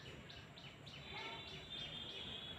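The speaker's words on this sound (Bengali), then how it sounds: "এখানেও পাখির কলরব শোনা যাচ্ছে" Birds chirp among guava trees in a sunny home courtyard, a quiet run of evenly spaced repeated calls heard faintly at a distance over a soft background hiss.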